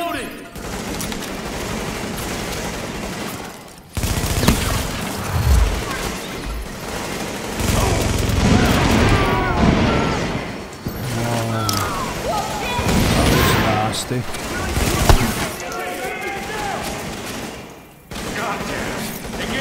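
Heavy automatic gunfire from a firefight in the video game The Division, set at Pier 93, with dense machine-gun bursts, booms and crashes firing almost continuously for twenty seconds, with short lulls and shouted voices mixed in.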